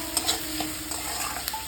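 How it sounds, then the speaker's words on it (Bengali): Chopped onion frying in a pan for egg masala curry, with a steady low sizzle broken by a few soft clinks and scrapes of stirring, fairly quiet and close, no voices. "পেঁয়াজটাকে লাল লাল করে ভাজতে হবে।"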